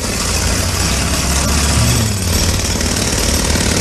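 A jackhammer pounds continuously at a construction site alongside a rumbling engine, loud and close, forming a dense wall of noise with no pauses.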